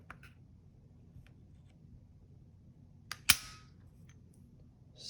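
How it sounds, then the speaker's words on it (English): Springfield Armory Hellcat micro-compact pistol dry-fired during a trigger-pull test, with one sharp, close metallic snap of the trigger breaking, set off by a few faint handling clicks in a quiet room. "let's try the trigger pull on this sucker."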